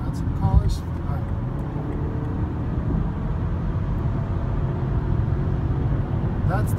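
2017 BMW 740xe plug-in hybrid accelerating on a highway, a continuous low rumble of engine and road noise building slightly, with a brief voice near the start and end.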